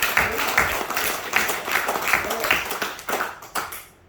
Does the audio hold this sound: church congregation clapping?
yes